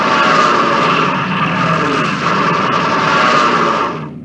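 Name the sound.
Stuka aircraft in the video game Panzer General II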